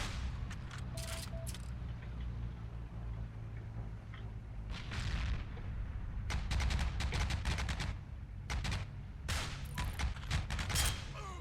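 Bursts of gunfire in the World War II shooter Heroes & Generals, with StG and Kar rifles in play, crack out in scattered volleys and rapid clusters over a constant low battlefield rumble, at moderate distance.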